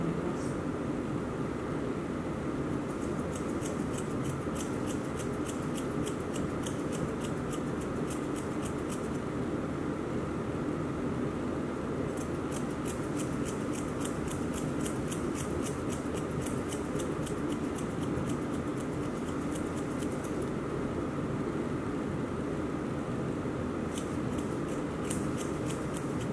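Scissors snip through a miniature schnauzer's fur during grooming, trimming right up to the edge of the paw. Quick clusters of crisp cuts come in bursts with pauses between, over a steady background hiss.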